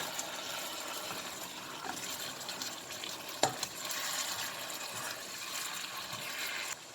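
Bay leaves and spices fry in a biryani pot under a steady sizzling hiss, with a few scraping stirs and a sharp clink near the middle.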